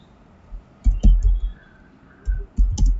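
Two short bursts of computer keyboard keystrokes while writing Python code, a cluster of several clicks followed by another quick flurry after a pause, close and moderately loud with no talking.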